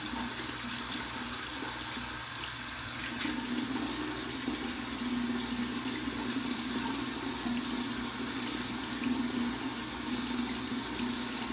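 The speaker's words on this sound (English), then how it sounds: "Let's run this under some cold water" Cold tap water runs steadily over an alum block after shaving with a Schick Injector razor, a continuous hissing splash at close range that swells slightly partway through.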